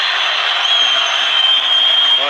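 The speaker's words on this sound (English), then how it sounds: "the crowd erupted here" A judo world championship crowd roars in a dense, steady wall of cheering and applause that holds at constant loudness throughout, filling the arena.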